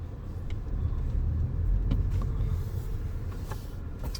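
Steady low road rumble and tire noise from inside a moving Toyota Venza hybrid, smooth and continuous with no talking.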